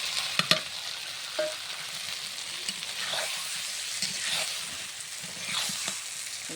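Puti fish and taro sizzle as they fry in a pan, a continuous close crackle broken by scraping stirs and sharp clicks of a spatula, with no talking.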